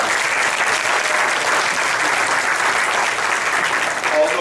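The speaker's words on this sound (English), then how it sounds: "ask you guys to give yourselves a round of applause" Loud, sustained applause fills the room at a Labor Day political gathering in Atlanta, a thick continuous roar of many hands clapping from a close crowd.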